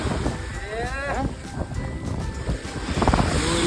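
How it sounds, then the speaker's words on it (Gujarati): Sea waves wash and churn along a shore beneath wind buffeting the microphone, while people talk and call out close by over the water. "તમે આ ખાલી દરિયાના મોજા કેવા આવે"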